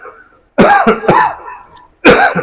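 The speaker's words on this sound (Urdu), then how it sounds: "کھانسی کا عرضہ ہے کوئی ایسی بات نہیں" A preacher coughs during a majlis sermon: a close, loud burst of three harsh coughs followed by one more after a short pause, with no talk.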